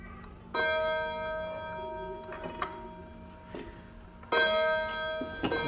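Japanese clock chimes loudly, sounding two bright ringing bell strikes several seconds apart, each decaying with a long shimmering tone in a quiet room.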